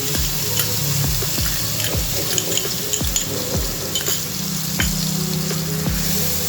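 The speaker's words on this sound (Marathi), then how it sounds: "तेल गरम झालं तर यामध्ये जे आपण मिरची लसण आणि अद्रक कोथिंबीर त्याचं पेस्ट मिक्सीमधून वाटून घेतलं होतं ते यामध्ये टाकू" A paste of green chili, garlic, ginger and coriander fries in hot oil, giving a steady close sizzle broken by sharp crackles and pops and occasional stirring, with no talking.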